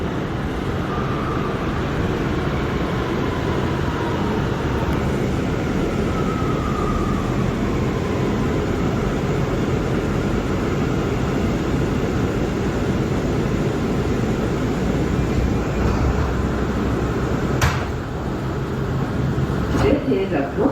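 An R179 C local subway train runs Brooklyn-bound through a tunnel with a constant loud rumble and roar, steady throughout, with a few faint squeals and clanks near the end.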